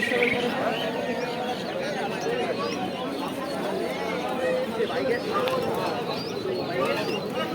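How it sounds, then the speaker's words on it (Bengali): Pigeons kept for sale at a crowded outdoor pigeon market in Bongaon coo and flutter amid a dense, continuous hubbub of nearby people talking. "এখানটাও খুব সুন্দর পায়রা আছে এগুলো সব বিক্রির জন্য রেখেছে"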